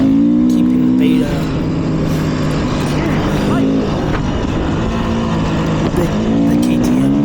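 A 2020 Beta 500 RR-S dirt bike rips through the desert, its engine note loud and continuous, rising and falling through revs as it is ridden hard, with wind buffeting over the whole stretch.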